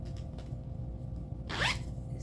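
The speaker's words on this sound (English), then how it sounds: "So it has a zipper" A zipper on a plush snack bag is pulled open in one quick, close rasping stroke, preceded by faint handling noise.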